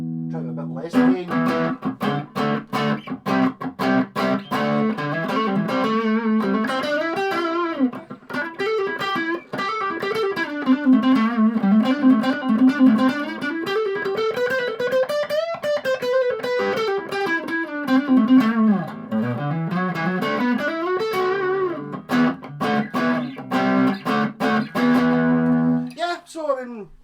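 Squier 51 guitar through a small Peavey Rage 158 amp on the distortion channel at lower gain, playing a continuous riff of bending single-note lines and chords, loud and close with no talking.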